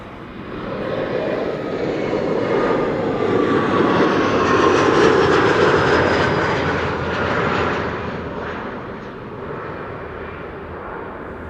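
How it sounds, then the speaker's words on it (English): KLM Embraer 175 arriving from Leeds, its jet engines roaring close and loud, building to a peak and then easing away over several seconds. "It's the Embraer 175 arrival from Leeds coming in next."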